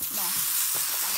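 Tomato pieces fry in hot oil in a kazan, giving a loud, close, continuous sizzle with a brief stirring scrape partway through and no talking.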